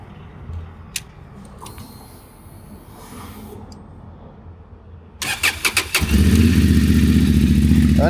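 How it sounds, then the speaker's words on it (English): Honda Transalp 750 motorcycle engine cranking with a few sharp clicks and stutters, then catching and settling into a loud, steady close idle. "Let's start the motorcycle."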